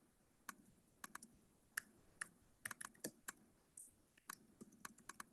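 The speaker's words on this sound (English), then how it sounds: "I'm just typing this in so people know where to text news to 55444" Typing on a computer keyboard in a quiet room: a string of sharp, irregular key clicks, some in quick bursts, others spaced apart, fairly close and moderately soft, with no talk.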